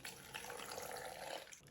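Water runs into a container for a strawberry stock recipe, about 200 ml poured in a short, soft steady stream of splashing that ends abruptly, faint and heard with no talk.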